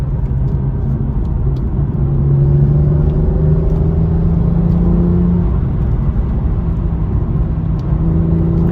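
A BMW M2 with a DCT gearbox cruises on a test drive, its steady engine drone and road rumble heard from inside the cabin, with pitch rising and falling gently through the gears; no talking.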